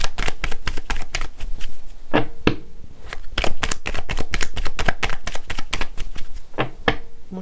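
Tarot-style cards are shuffled for a card reading, producing rapid crisp riffles and slaps in quick bursts, loud and close, with short pauses between rounds.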